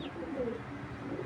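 Racing pigeons coo softly nearby, a faint, low murmuring call heard briefly against quiet background.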